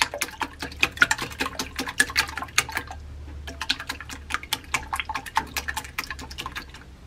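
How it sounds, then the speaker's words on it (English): Eggs are whisked briskly in a bowl, producing rapid, close ticking strokes with wet clicks of beaten liquid that pause briefly midway, then resume at the same quick rhythm. "I've got the eggs in a bowl and I'm going to whisk them up."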